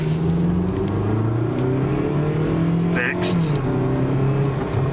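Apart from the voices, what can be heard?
Jeep Compass engine as it is put in drive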